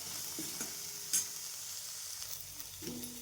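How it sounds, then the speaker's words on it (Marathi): Peanuts roast in oil in a pan, giving a faint, soft sizzle with a few light stirring clicks and scrapes, heard quietly with no talking. "तेलामध्ये छान फ्राय करायचे छान डाग छान डाक पडेपर्यंत भाजून घ्यायचं"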